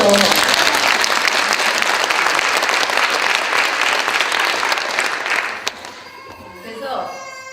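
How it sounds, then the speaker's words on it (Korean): A church congregation applauds warmly and steadily for several seconds for a missionary before the clapping dies down and a voice begins speaking. "이렇게 박수 좀 주세요"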